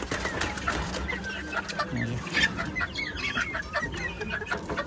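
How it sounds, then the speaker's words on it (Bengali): Native red deshi roosters in a confined backyard poultry setup clucking close by, a series of short irregular clucks and calls over a soft background, with no speech. "দেশি জাতের যে মোরগগুলা লাল কালারের"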